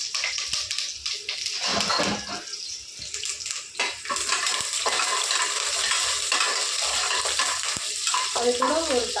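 Small shallots and curry leaves fry in hot oil for a tempering for mutton kuzhambu, giving a steady, fairly loud sizzle with stirring scrapes and clatter throughout.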